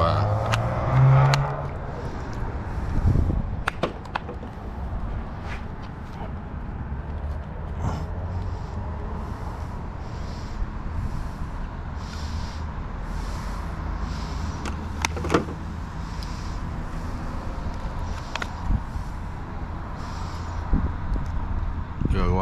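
A Traxxas Sledge RC car runs across beach sand dunes, its electric motor whining and surging steadily throughout, with brief knocks early on and faint voices underneath.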